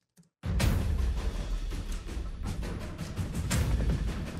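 A fully orchestrated epic percussion arrangement: dense, loud, sustained layers of thundering drums and crashing hits rolling continuously after a sudden start, with no speech.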